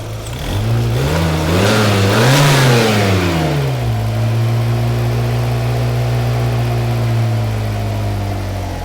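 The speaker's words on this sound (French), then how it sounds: "lorsque j'accélère et que je laisse retomber le moteur au ralenti, le ralenti reste en l'air pendant un moment et ensuite il réduit" A Volkswagen Corrado G60 engine with an idle fault is revved hard twice in quick succession, then falls back to a high idle that lingers before slowly sinking. The engine is loud, close and steady throughout.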